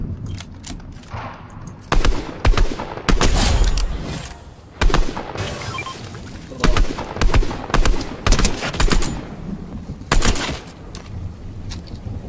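Fortnite gunfire crackles in sharp, loud bursts, some single shots and some rapid volleys, spread unevenly with short quiet gaps between.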